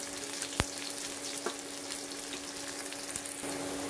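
Shallots or onion, garlic and curry leaves sizzle in hot oil for an appalam kuzhambu base, a soft continuous crackle with a few sharp pops and clicks of stirring.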